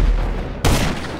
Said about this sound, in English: It just hit my sticky bomb.